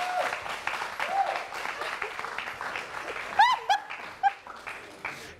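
Brief applause from a studio audience on a French game show, a short burst of clapping with a small dog-like yelp and overlapping voices nearby.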